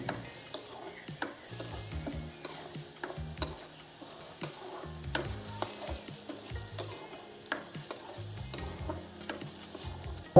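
Onion masala paste fries in a pan while a spoon stirs it, giving a soft sizzle broken by frequent scraping and clinking strokes in an irregular rhythm. The paste is for a red fish curry, and no one speaks.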